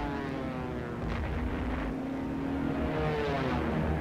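German bombers in World War II archive footage attacking English ports, their engines a steady, loud droning rumble that fills the whole stretch without any voices.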